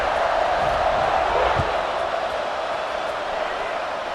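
Crowd noise from a college football video game stadium during a fourth-quarter kickoff, a steady, dense roar of cheering that holds loud and continuous throughout.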